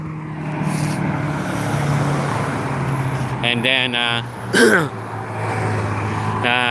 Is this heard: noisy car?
yes